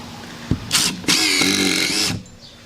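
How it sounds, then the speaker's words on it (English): Dewalt 20V XR brushless impact driver driving a screw, a short trigger blip followed by a loud sustained motor whine with rapid hammering impacts, up close and without talk. "You can see this thing has no problem driving screws"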